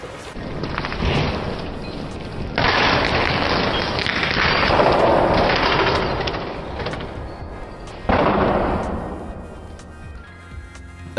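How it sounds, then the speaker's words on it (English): Vial of liquid cesium hurled onto a wet wall, bursting into a sharp crackling, hissing blast that surges twice with broad noisy energy, then fades over several seconds, close and loud. "We have decided to destroy the vial with the remnants of liquid cesium by throwing it onto"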